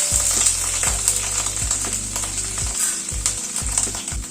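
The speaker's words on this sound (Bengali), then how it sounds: "তেলটাও ঘিটা গরম হওয়ার পরে পনিরটা দিয়ে দিচ্ছি। পনিরটা দিয়ে একটু হালকা করে ভেজে তুলে নেব।" Cubes of paneer sizzle steadily in hot ghee, a dense crackling fry close to the pan with occasional stirring scrapes and small clinks throughout.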